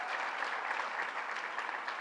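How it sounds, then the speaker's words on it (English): Sustained applause from a crowd at a political rally for reproductive rights in Yonkers, dense and steady throughout without any pauses, heard alone with no talking. "you all seem to really want to clap for these people"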